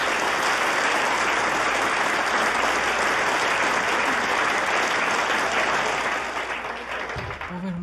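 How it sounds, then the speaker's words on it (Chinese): A debate audience applauds as the team is introduced at a competition, a dense, steady clapping that carries on for several seconds before easing off at the end. "也让我们把掌声送给他们"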